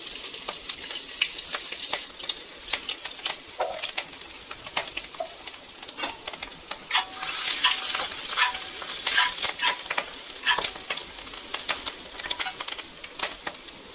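Hing, garlic and green chilli spit and sizzle in hot mustard oil, a bright, busy crackle close by with faint stirring and no speech.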